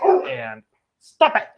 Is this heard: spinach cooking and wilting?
no